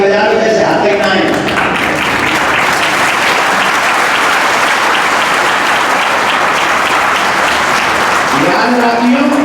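A big crowd at a kathavachak's discourse claps loudly and steadily for several seconds, a dense wash of applause framed by a man's amplified speech at the beginning and end.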